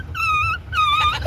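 A dog lets out two high, drawn-out whines in quick succession, close and fairly loud.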